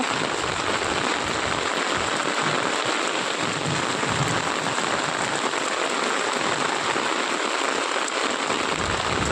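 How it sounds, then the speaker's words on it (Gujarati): Heavy rain with wind pours down steadily over flooding farm fields in Banaskantha, a dense unbroken hiss of drops hitting surfaces, loud and close with a low rumble beneath. "પવન સાથે વરસાદ ચાલુ જ છે"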